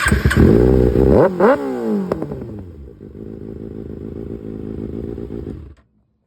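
A 2024 Kawasaki ZX-6R KRT Edition sport motorcycle with an M4 aftermarket exhaust revs hard with a deep, throaty roar, then settles into a steady rumbling idle before cutting off abruptly.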